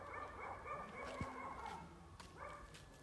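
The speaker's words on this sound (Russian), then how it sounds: "Еще собачки соседские мешают медитации." Neighbourhood dogs bark and yip repeatedly at a distance, faint but clear, the barks coming in short bursts over quiet outdoor background.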